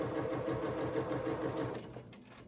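A sewing machine stitches a quilt block with a fast, steady mechanical chatter close by, running for about two seconds before stopping.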